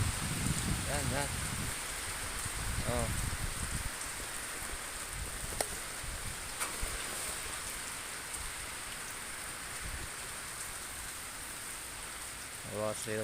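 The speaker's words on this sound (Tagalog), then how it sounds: "Bagsak rin ang buhos ng ulan." Heavy rain pours steadily over rice fields at Sitio Siminoblan in Zambales, a dense, constant hiss near at hand, with a few faint murmurs of voices in the background.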